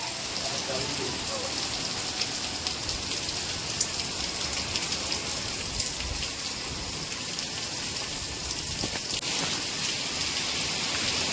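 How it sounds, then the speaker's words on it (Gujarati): Heavy downpour in Gujarat with gusty, storm-like wind, a dense steady hiss of rain drumming on surfaces that fills the whole stretch evenly and close by, with no break in intensity. "મિત્રો અત્યારે જોઈ શકો છો વરસાદ બહુ આવી રહ્યો છે"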